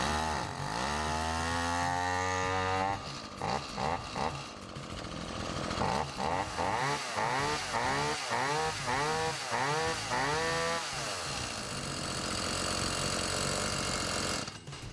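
A previously flooded chainsaw fires up and runs at half throttle, its loud close two-stroke engine rising and falling in pitch with uneven revving before settling into a steady roar.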